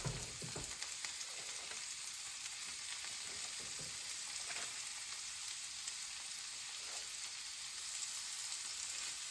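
Porcupine meatballs sizzling in a crowded pan, a steady close frying hiss broken by soft scrapes and knocks as they are nudged around, with no talking.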